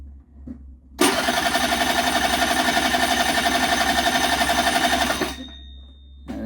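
A Hyosung Sense scooter in bad shape roars at full throttle: the engine bursts into a loud, steady, buzzing drone for about four seconds, then cuts off abruptly, leaving near silence.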